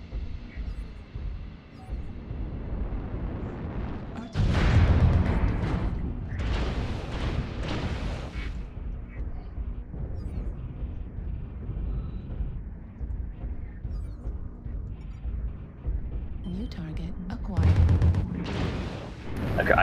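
An artillery strike in a MechWarrior video game, deep booming impacts and rumbling explosions over a constant mechanical hum, with heavy blasts at the start and again near the end while a voice talks intermittently.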